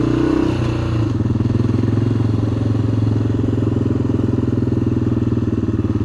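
A big single-cylinder thumper motorcycle idles loud and close, a steady rapid low chugging pulse with a slight stumble at the start before settling into an even rhythm, with no talking.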